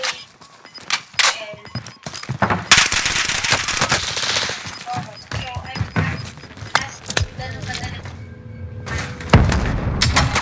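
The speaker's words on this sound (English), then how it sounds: "Bastard trying to shoot me!" Enemy gunfire in a shooter game, loud rapid bursts of automatic fire and scattered thuds and booms packed densely across the scene, with no pauses.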